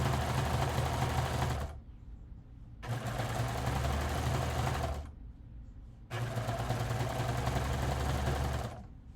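A serger sewing machine runs in three steady, loud bursts of rapid mechanical stitching through sheet fabric, separated by short pauses.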